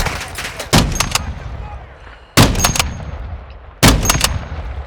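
Bursts of gunfire from the video game Warzone 2 come in three separate sharp volleys, each a quick cluster of loud shots with a fading tail, spaced about a second and a half apart.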